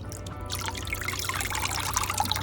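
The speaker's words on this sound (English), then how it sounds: "we need to empty the water completely" Water pours and trickles out of a container in a steady splashing stream, close and fairly loud for a couple of seconds.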